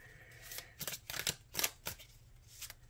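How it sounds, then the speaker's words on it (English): Tarot and oracle cards are shuffled by hand in quick bursts of riffling and sliding, crisp papery flutters close to the listener with short pauses between, with no talking. "It actually took me using tarot and oracle cards to get better at shuffling."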